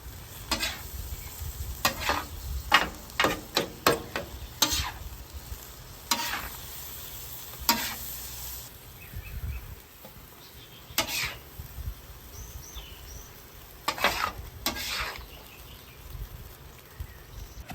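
Sliced medium rare steak and its juices stirred into noodles on a flat-top griddle for beef stroganoff: a soft steady sizzle under repeated scraping, tossing strokes, with no talking.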